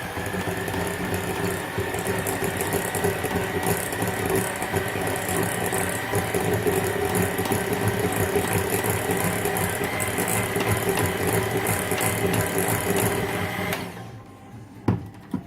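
An electric mixer blends coffee cake batter in a home kitchen with a steady, loud mechanical whir that runs unbroken for about fourteen seconds, then cuts off, leaving brief soft clatters.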